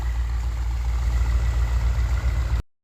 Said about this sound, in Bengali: দেখেন একটি ট্রলার যাচ্ছে।